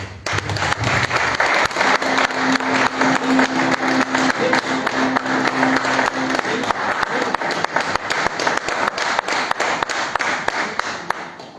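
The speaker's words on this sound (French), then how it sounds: "Est-ce que tu peux acclamer encore?" Church congregation applauding at length, dense loud clapping from many hands that carries on steadily throughout, with voices and music faintly beneath.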